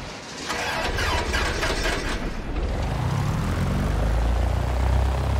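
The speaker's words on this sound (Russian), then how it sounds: "Запускаем двигатель. Нам нужно провернуть ключ и потом полностью дать микстуру." A simulated Cessna 172S in X-Plane 12 starts up: a cranking propeller engine catches and settles into a loud, steady piston drone with a low throbbing hum, no talk over it.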